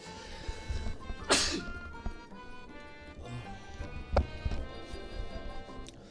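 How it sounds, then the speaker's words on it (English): A single sharp allergy sneeze bursts out close by, followed by rustling and a few faint knocks in an otherwise quiet room. "I hate allergies. I may actually sneeze again"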